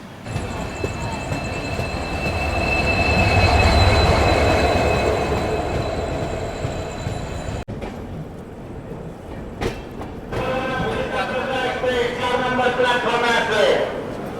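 The 13116 Jalpaiguri Road–Sealdah Humsafar Express runs near Malda Town, rumbling and rocking with rhythmic clickety-clack over rail joints and thin wheel squeals. The noise swells, then shifts to a sharper metallic clatter partway through, while a voice talks over it.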